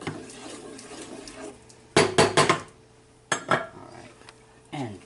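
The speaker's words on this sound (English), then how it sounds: "Stir it again." A spoon stirs meatball sauce in a pot, giving a few sharp clanks and scrapes against the metal in two short clusters, with a quieter knock at the end over a low background hum.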